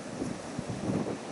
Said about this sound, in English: you're going to have to excuse the wind